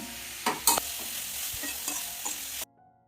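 Onions and crushed ginger-garlic paste sauté in a pan for egg curry, a steady close sizzle broken by a few sharp spoon scrapes and knocks before it cuts off abruptly into silence.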